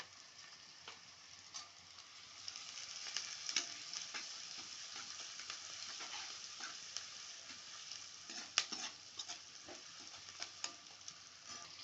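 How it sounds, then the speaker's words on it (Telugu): Onions fry in a pan for a curry of stuffed brinjal, giving a soft, steady sizzle with faint crackles and a few sharper taps of a utensil against the pan, quiet and close, without any speech. "ఉల్లిపాయ దోరగా వేగాలి."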